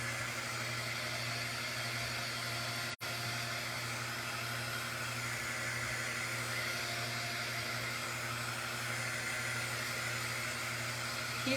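A hair dryer blows a steady, loud whoosh over a freshly painted fall sign. It runs continuously and alone, with one brief dropout near the start.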